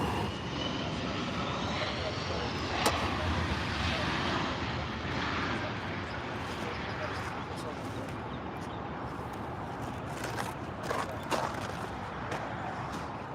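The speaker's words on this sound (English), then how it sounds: "Arguably the best sounding engines a plane can have, in my opinion." A passenger jet's engines roar in flight near an airport, a broad, steady rumble that holds for several seconds before slowly fading, heard from the ground by plane spotters.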